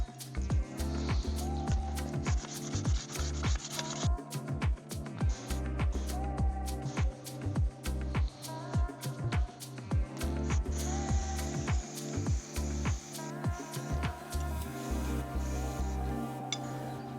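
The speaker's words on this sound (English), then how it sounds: "while the second layer of primer dries, I'll sand down the fork" Sandpaper rubbing back and forth over a primed bicycle fork, a steady near rasping stroke repeated in quick rhythmic passes, alone without talk.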